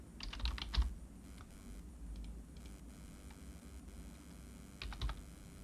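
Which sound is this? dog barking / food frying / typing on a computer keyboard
typing on a computer keyboard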